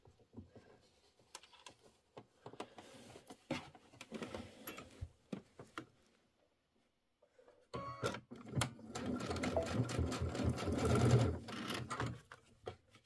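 A sewing machine stitches quilt fabric: a few short, hesitant bursts of stitching come first, then a pause, then a steady fast run of stitches, close and fairly quiet, with no talking.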